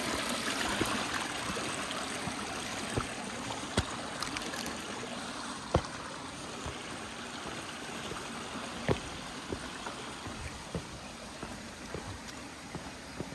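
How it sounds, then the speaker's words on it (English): A stream on a Maui hike flows in a steady, broad rush of water, close and continuous, with faint scattered clicks and splashes over the even wash. "love the sound of water. That's how I found this stream"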